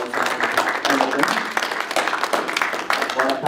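Audience applause at a Washington, D.C. policy panel event ripples in uneven waves of clapping, moderately loud, with some voices mixed in.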